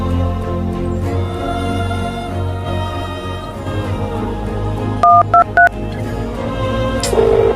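Telephone keypad tones beep in a quick run of four short dial tones, over a background of sustained music, with a final longer tone at the end.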